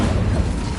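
A fire spell is cast in the Hogwarts Legacy video game, giving a short, loud, low whooshing burst with a booming rumble that carries through the whole moment, with no talk over it.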